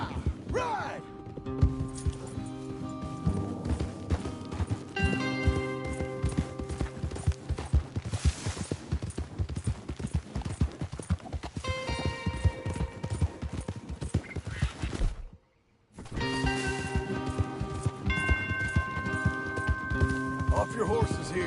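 Horse hooves clip-clop in a video game, in a steady, brisk rhythm across the whole stretch, close and fairly loud, pausing briefly near the end before resuming, with voices over them.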